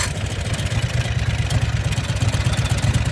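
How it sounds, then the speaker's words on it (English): A 670 cc Predator engine with no governor idles with a steady, throbbing low-pitched rumble and light clatter, close and continuous. "there it is idling"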